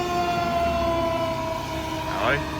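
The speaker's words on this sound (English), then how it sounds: "I like the white fire trucks." A fire truck siren wails steadily at close range, its pitch sweeping upward near the end, over a loud ambient background on a town street.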